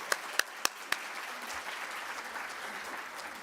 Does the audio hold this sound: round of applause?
yes